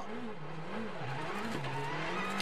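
A Citroën DS3 rally car on a Monte Carlo Rally stage drives past, its engine droning with a steady wavering pitch and small rises and dips as it shifts, loud and continuous throughout without any voices.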